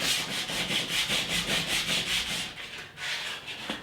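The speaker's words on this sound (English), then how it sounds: "These are all hand sanded now to a pretty good standard." Hardwood handrails being hand sanded, producing a close, rhythmic scratchy rubbing at a steady pace of about three strokes per second before slowing and pausing.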